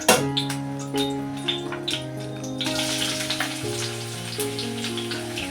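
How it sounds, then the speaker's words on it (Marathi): Chopped onion sizzles as it hits hot oil in a pan after frying okra, a bright crackling hiss that spreads and intensifies partway through, with light background tones and no talking. "आता मी त्यात त्याच पॅनमध्ये तेल टाकलेलं आहे आणि आता मी कांदा टाकते"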